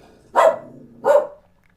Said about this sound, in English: That's my dog Lucy.